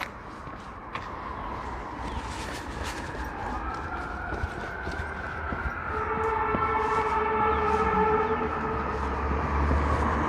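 An ambulance siren on a New York street wails in sweeping rising and falling tones over a steady roar of traffic, growing louder and closer toward the end.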